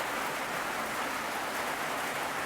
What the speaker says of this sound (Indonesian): sudah turun hujan lagi